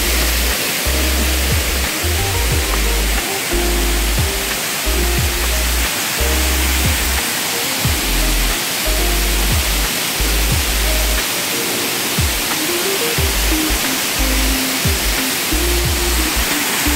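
A waterfall on a farm lot in Guinyangan, Quezon roars as a dense, continuous rush of falling water, loud and near, with low bumps of handling noise underneath and no talking.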